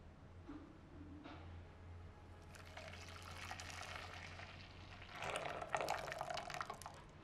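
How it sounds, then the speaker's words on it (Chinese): Blended millet rice batter pours from a blender jug into a basin, a soft liquid splashing and trickling that swells toward the end, faint and close. "直接把打好的米浆倒入盆里面"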